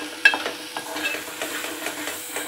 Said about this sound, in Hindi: तेल छूटने तक अच्छा लाल होने तक भून लेंगे।